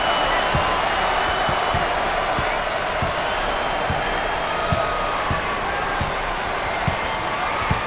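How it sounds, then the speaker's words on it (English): Steady, dense roar of a basketball arena crowd in the NCAA Basketball 10 video game, continuous and loud with faint periodic thumps of a ball bouncing underneath. "Listen to the crowd."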